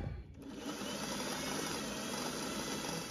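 Sewing machine stitching a dress, a continuous close whirring drone with fast needle chatter, running steadily without pause.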